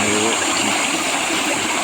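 A stream flows steadily near Hilongos, its water rushing and gushing in a constant broadband wash for the whole stretch, with what may be a faint voice underneath.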